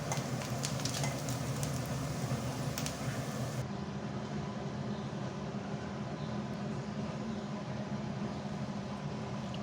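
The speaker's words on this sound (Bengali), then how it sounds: "ভেজে নেব পেঁয়াজ রসুনটা লাল লাল করে ভেজে নিছি" Onion and garlic fry in a pan on the stove until reddish brown, giving a steady close sizzle. The bright hiss softens noticeably partway through, then the frying continues more quietly.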